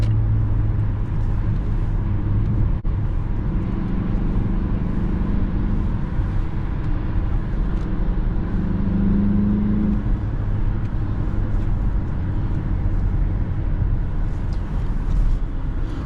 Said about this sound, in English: Even when going almost full throttle, the engine still stays in the lower RPMs